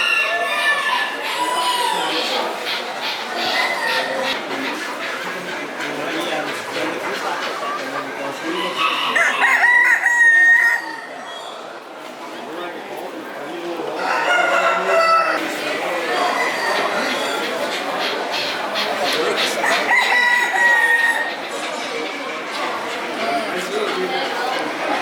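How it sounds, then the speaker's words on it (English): Rose-combed Rhode Island Red bantam roosters crow repeatedly at a poultry show, with other fowl clucking in a crowded, noisy hall and people chattering throughout. "Rose-combed Rhode Island red bantams."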